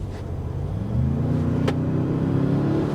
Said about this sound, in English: let's see how we accelerate here